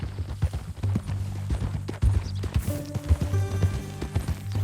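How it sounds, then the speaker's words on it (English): Horse hooves clip-clop steadily in the Red Dead Redemption 2 video game on a ranch, an uneven trotting rhythm of close, fairly loud hoof strikes, with a soft low hum beneath. "That a new horse?"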